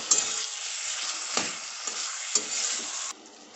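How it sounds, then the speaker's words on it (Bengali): Steamed cabbage stir-fried with spices in a pan gives a steady sizzle broken by several scraping spatula strokes, close up, before the sound drops off abruptly near the end. "সব মশলার সাথে বাঁধাকপিটাও খুব ভালোভাবে মিক্সড করে কষিয়ে নেব"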